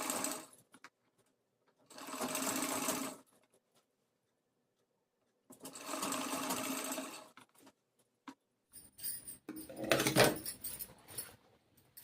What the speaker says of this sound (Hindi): इस तरह से हम सिलाई लगा देंगे